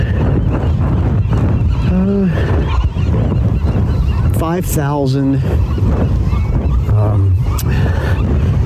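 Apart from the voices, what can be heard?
pelicans and seagulls calling in harbor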